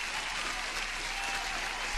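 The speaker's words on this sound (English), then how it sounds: "Here comes the applause for our celebrity, methodical man." Dense, steady applause sound effect with crowd cheering, even and continuous at a moderate level, played on a live day-trading stream.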